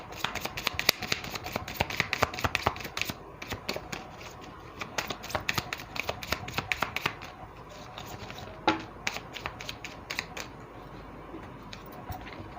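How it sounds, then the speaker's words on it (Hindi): Tarot cards shuffled by hand, a rapid series of crisp riffling and flicking bursts, close and dense at first, then sparser taps and slides later, with no talking. "कार्ड निकल के ही नहीं आ रहा है।"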